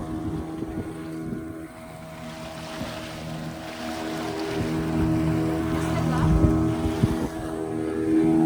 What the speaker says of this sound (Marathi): आता आम्ही बोट चेंज केली आहे आणि आता डीप समुद्रात जातोय स्कूबासाठी